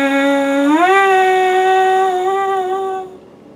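A brass instrument plays a lip slur exercise, holding a clear tone, slurring smoothly up to a higher pitch, dipping briefly lower, then settling and fading out.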